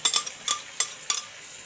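A utensil stirs chili paste cooking in oil in a pan, making five or six sharp scraping clinks at uneven intervals, close and clear against near silence.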